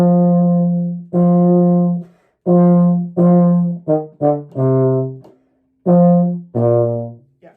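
A low brass instrument plays a short beginner line of sustained half notes, then quicker notes near the end, each tone clean and close, alone with no talking.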